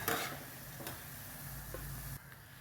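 Boondi drops frying in hot oil for sweet boondi, a steady soft sizzle with faint stirring scrapes and ticks, moderately quiet and continuous with no voices.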